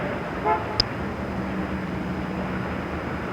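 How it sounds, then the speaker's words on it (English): A short car horn toot sounds once over steady urban road traffic noise, fairly close and brief, from a 1977 16mm film. "that horn must have really startled him."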